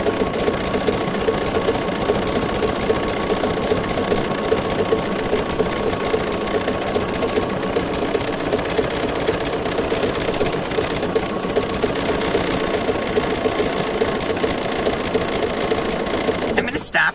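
A Bernina sewing machine stitches decorative circles, a fast, even, continuous motor-and-needle chatter heard close and loud throughout.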